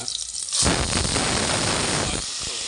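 Mutton pieces being rinsed in clean water for mutton sambar: a steady, loud rush of splashing water that starts suddenly and runs for most of the moment before easing off.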